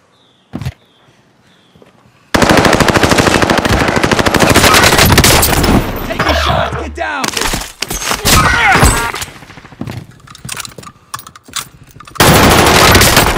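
Rapid automatic gunfire bursts in a Call of Duty: Modern Warfare match, loud and close, with sustained firing broken by brief pauses and scattered impacts.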